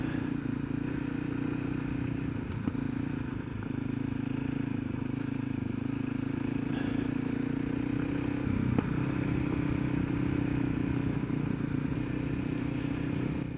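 A Husqvarna 350 dirt motorcycle rides a trail in the Carrizo National Monument, its engine droning steadily and close with light clatter and scraping from the terrain.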